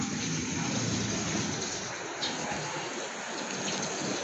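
Rain pours down steadily outdoors on a city street, a continuous dense hiss close to the wet camera, with no voices.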